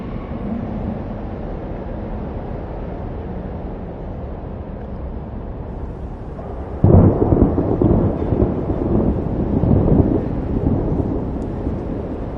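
Game thunderstorm in Life is Strange: Double Exposure, a constant low rumble of wind and rain that swells suddenly into a heavier, louder roll of thunder partway through, with no voices.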